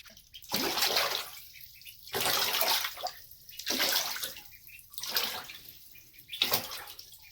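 Water gushing in repeated pours about every one and a half seconds, splashing into a tub used as a bath for ducklings, with quiet pauses between.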